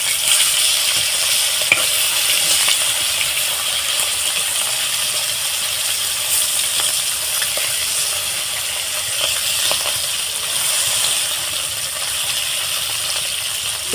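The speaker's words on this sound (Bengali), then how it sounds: "দেখুন আমি এইভাবে সবগুলো ভেজে নেব" Singi fish (stinging catfish) frying lightly in hot oil, giving a steady, dense sizzle that runs unbroken and fairly loud throughout, with a few faint clicks on top and no voices.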